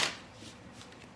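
A deck of tarot cards riffled and shuffled by hand, a quick close papery flutter that fades into soft sliding.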